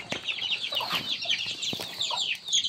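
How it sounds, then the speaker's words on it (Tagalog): Several chickens cluck close by on a Filipino farm, a busy, uneven chatter of short calls with occasional sharper squawks over light background noise. "Yan yung ating mga manok. Ang dami pa nila guys."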